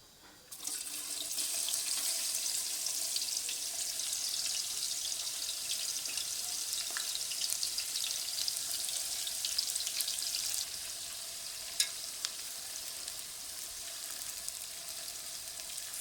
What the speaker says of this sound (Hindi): प्याज हमारा तेज़ी से ब्राउन हो रहा है।